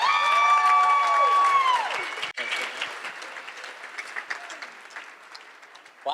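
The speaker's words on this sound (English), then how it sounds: "Put your hands together. Make some noise for your bride and groom." Wedding guests applaud and cheer the bride and groom at the reception toasts, a loud dense burst of clapping that thins gradually into scattered claps over several seconds.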